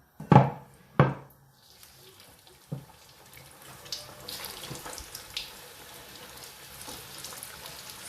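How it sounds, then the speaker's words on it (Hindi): Homemade aloo samosas dropped into already-hot cooking oil: two sharp close splashes as they go in, then a steady soft sizzle and bubbling with a few small pops. "अभी मैं डालने लगा उनको ऑयल में। ऑयल ऑलरेडी मेरा गर्म था, तो अभी उनके अंदर डालते हैं।"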